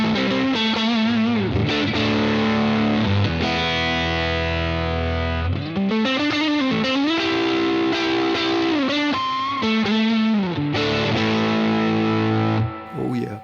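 Electric guitar played hard through a Universal Audio Dream '65 Reverb amp, with sustained distorted chords and single notes that ring out loud and thick for the whole stretch, changing pitch every few seconds and trailing into reverb.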